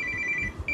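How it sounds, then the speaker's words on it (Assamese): Incoming phone call ringing, a steady repeating electronic ring tone heard clearly over low background noise. "ফোন আহিছে"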